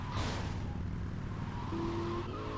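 A car engine in GTA Vice City Definitive Edition drones steadily with a low, constant hum and a faint rising whine, no voices over it.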